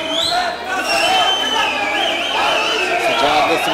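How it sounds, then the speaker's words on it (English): A crowd roars continuously at a mixed martial arts national championship semi-final bout, a loud, dense wash of cheering and shouts that holds throughout. "The crowd is cheering for Gujjar right now."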